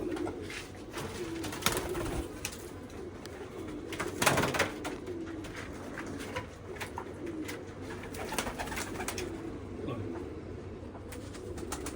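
Jamuni pigeons coo steadily at close range, a run of soft rolling coos repeating through the stretch with little talk.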